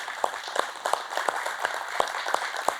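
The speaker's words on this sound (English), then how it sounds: "I'd like you all to stand and give yourself a round of applause" Audience at a community foundation granting day applauds themselves, a steady patter of many hands clapping throughout with a few sharper, louder claps standing out.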